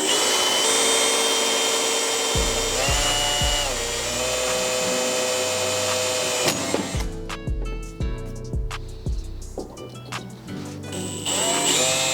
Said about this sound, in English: the slower you go, the less heat that builds up in the drill bit